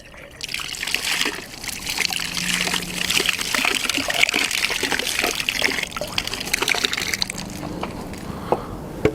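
Water flushes and trickles steadily through a suppressor cleaning tube during a cleaning kit routine, a continuous splashing, gurgling wash that runs close and loud for the whole stretch.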